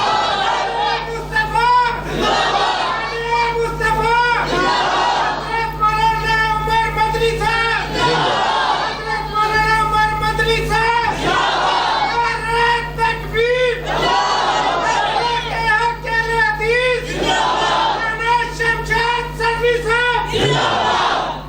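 A large mosque crowd in Faisalabad answers a takbir call with loud, rhythmic massed chanting that rises and falls in repeated waves of many voices, with reverberant shouting throughout.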